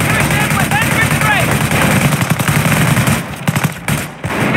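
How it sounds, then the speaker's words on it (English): Mortar blasts and rapid gunfire in the Company of Heroes PC battle game, a dense, loud, continuous barrage of crackling shots and booms under game voice chatter, thinning out briefly near the end. "That mortar is wreaking havoc on our infantry."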